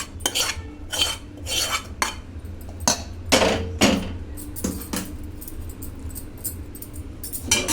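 Rice being mixed with tamarind tempering in a metal pot for pulihora, with repeated scraping and clinking of a spoon against the vessel in irregular bursts, close and fairly loud, with no talking.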